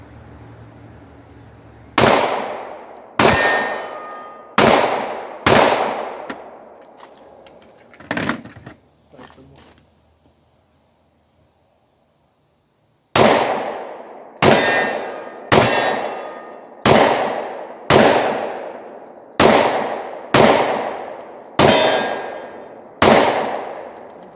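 A 10mm Glock 20 pistol firing outdoors: loud, sharp gunshots with ringing decay, a string of about six, a pause, then roughly eight more at an even, steady pace.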